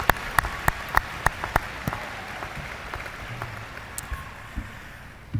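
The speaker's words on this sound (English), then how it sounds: "Another round of applause for our student speeches." Applause rings out at a high school graduation commencement ceremony, scattered sharp claps over a steady crowd clapping wash that thins gradually over several seconds.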